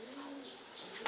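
A Yellow Beauty pigeon gives a soft, brief coo, heard close and faint against a low background hiss, with no talking.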